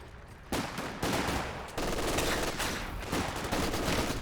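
A captured MG42 machine gun in Company of Heroes 2 rattles off sustained bursts of rapid automatic fire, loud and dense, with short breaks between volleys.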